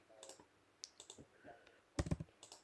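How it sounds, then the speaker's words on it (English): Quick bursts of clicky keystrokes on a computer keyboard, irregular and close, with a few soft voice murmurs in the background. "No, I'm still typing it up."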